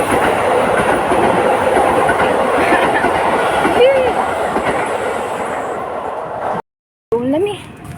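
A train passes close by with a loud, steady rumble and rhythmic wheel clatter that fades slightly, cuts out briefly near the end, then returns.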